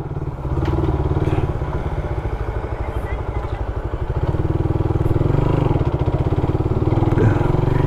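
Suzuki Raider 150 motorcycle engine idling close by, a loud steady throbbing pulse that rises slightly in level partway through.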